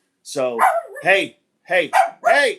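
A dog barks close and loud in two quick clusters of sharp, voiced barks separated by a short pause.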